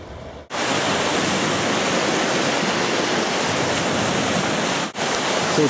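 Waves washing steadily along a Minnesota shoreline beside a campsite, a loud continuous broadband rush with no distinct breaks, cutting in and out abruptly, with no voices.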